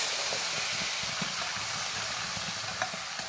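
A ground paste of onion, garlic, ginger, chili, cumin and coriander powder hisses and sizzles steadily in hot oil, a close, even sputtering wash with faint scraping underneath.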